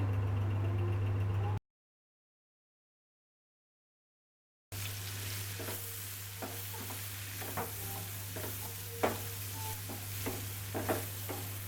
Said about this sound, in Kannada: ಈರುಳ್ಳಿ ಚೆನ್ನಾಗಿ ಫ್ರೈ ಆಗಬೇಕು, ಅಷ್ಟೊತ್ತು ವೇಟ್ ಮಾಡೋಣ